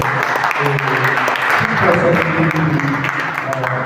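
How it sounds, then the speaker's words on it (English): An audience at a media conference applauds, steady crowd clapping filling the space, with voices talking over it throughout. "a round of applause for"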